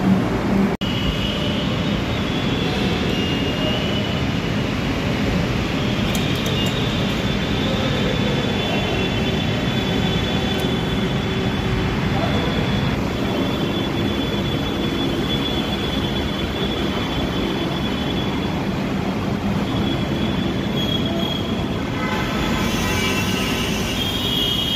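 A Kolkata Metro Orange Line train runs steadily, its loud rumbling roar and rattling wheels filling the car, with a faint high squeal sustained throughout.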